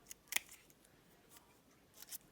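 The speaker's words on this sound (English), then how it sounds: "My scissors are squeaking well." Quiet snips of scissors cutting, a few sharp crisp clicks spaced irregularly with faint high squeaks, alone in a hushed room.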